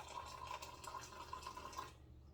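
Hot, preheated water is poured for a hummingbird feeder, making a faint, steady trickling splash with a thin ringing tone that stops abruptly after about two seconds.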